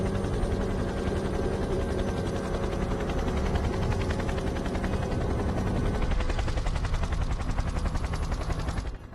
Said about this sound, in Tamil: அது ஹெலிகாப்டரோட சத்தம்.